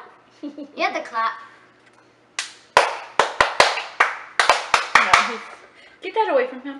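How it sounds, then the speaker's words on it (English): Children clap their hands in a quick burst of about ten sharp, close claps, with a voice heard before and after the clapping. "You have to clap."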